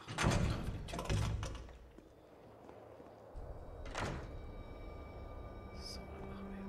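A door opens in Resident Evil 3 with heavy thunks and a sliding clunk near the start, then another sharp impact a few seconds later over a low ambient hum, with someone speaking German quietly over it.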